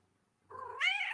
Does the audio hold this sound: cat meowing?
yes